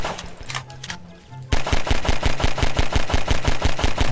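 Automatic gunfire in Garry's Mod, a fast steady burst of loud rapid shots that begins partway through after a quieter stretch with faint background noise.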